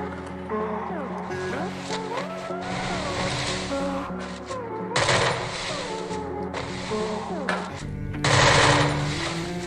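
Video game shootout with steady bursts of rapid gunfire and sharp shot cracks, layered over busy game music and engine-like tones, loud and continuous throughout.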